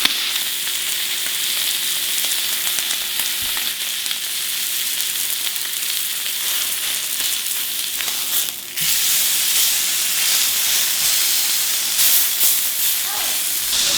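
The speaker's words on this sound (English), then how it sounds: "Let's sear this bad boy up." Beef jerky sears in a hot pan, giving a loud, steady hiss and crackling sizzle that runs the whole time with small shifts in intensity.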